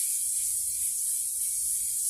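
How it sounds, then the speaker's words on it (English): Hairspray hisses in a steady, continuous spray onto styled hair, close and fairly loud, with no pauses. "And so we just doing a little spraying here."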